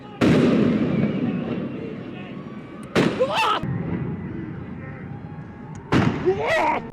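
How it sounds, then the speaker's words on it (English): Police fire rubber bullets at protesters in Los Angeles, sending out three sharp, loud reports a few seconds apart, each with a long ringing tail that fades over crowd noise. "The LAPD moving in on horseback, firing rubber bullets at protesters"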